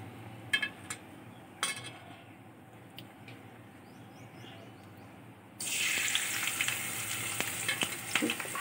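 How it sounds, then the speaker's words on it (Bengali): Vegetables hit hot oil in a pan partway through, and a loud, close, continuous sizzle erupts after a quiet stretch of scattered kitchen clicks, with no speech. "প্রথমে আমার সবজিগুলো একটু ভেজে নিতে হবে।"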